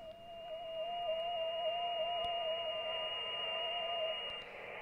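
A steady FT8 ham radio digital signal: several sustained, faintly wavering tones hold for about four seconds over a soft hiss, then fade out.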